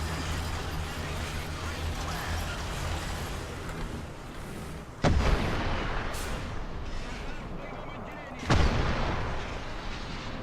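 A Tunguska anti-aircraft vehicle firing missiles in War Thunder, a loud rumbling battle bed broken by two sharp, heavy launch bursts around the middle and near the end, with a voice talking over it.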